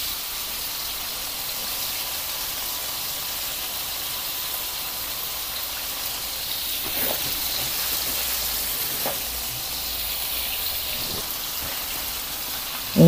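Tofu fries in a pan with a steady, close, hissing sizzle that goes on without a break. A few faint clinks sound near the end.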